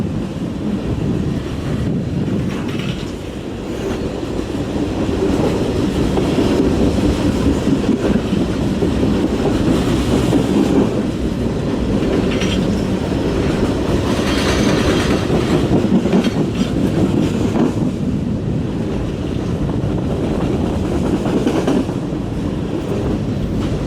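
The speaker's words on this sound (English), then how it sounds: "fastest trains I have witnessed" A train rushes past on the tracks with a steady broadband roar and faint clatter of wheels, loud and continuous for the whole stretch, with some wind buffeting.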